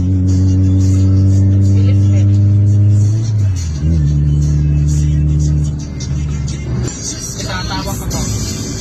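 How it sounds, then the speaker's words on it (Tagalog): A Mitsubishi Lancer GSR coupe with a stock muffler revs loud and close with a deep droning exhaust tone that rises and falls, then settles into a rougher idle, with someone talking over it. "Dito gamit ko ulit yung stock muffler tapos gagawin ko ulit na scav."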